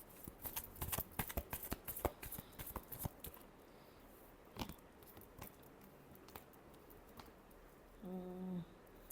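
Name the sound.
shuffling tarot cards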